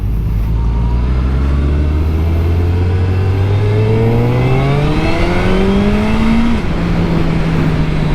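Suzuki Hayabusa sport motorcycle engine on a test ride, loud and close, a steady drone whose pitch climbs smoothly through the gears with a brief dip near the end as it shifts, continuous with no talking.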